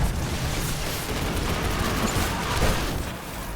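Heavy weapon fire pounding a boss in Destiny during a Strange Terrain Nightfall, a dense, continuous rumbling barrage of blasts and explosions, loud and steady throughout.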